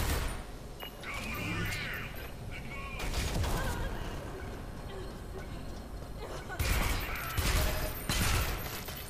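Pistol shots in Deus Ex: Human Revolution, several sharp broadband cracks in short bursts, loud over a busy game soundscape with talk running underneath.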